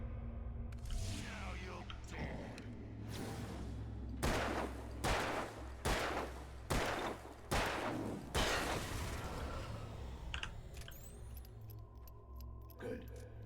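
Gunfire in the video game Alan Wake: a run of about eight loud, sharp shots in a steady rhythm over a low droning ambience, then tapering into quieter clicks.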